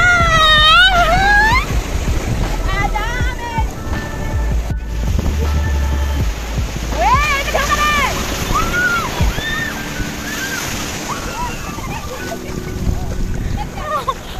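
Sea waves rolling in at Henry Island, Bakkhali, a constant loud surf wash with wind buffeting the microphone, while people talk and call out over it.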